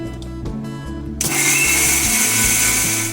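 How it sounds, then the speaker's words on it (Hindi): A kitchen blender grinds a raw mango mixture with a little water for pani puri, starting with a low hum and then roaring into a loud, steady whir close by, with no one talking. "और ग्राइंड करना है।"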